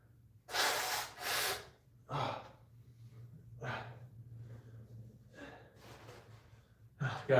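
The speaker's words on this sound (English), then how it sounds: "Give me a second. I gotta blow my nose." A man blows his nose indoors, two strong noisy blasts followed by several shorter snorts and sniffs spread out over the next few seconds, close and fairly quiet.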